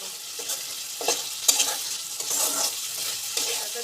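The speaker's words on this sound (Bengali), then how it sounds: "উপকরণ দিয়ে ভালো করে আমি কষাতে থাকবো।" Spices such as Kashmiri chilli and garam masala fry in a pan for an egg and potato curry, a loud steady sizzle broken by repeated scraping stirs of a utensil, with no talking.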